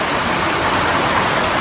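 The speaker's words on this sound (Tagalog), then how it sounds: "Ay, malakas yung ulan." Heavy rain pours down steadily, a dense, loud, even hiss with no breaks and no voices.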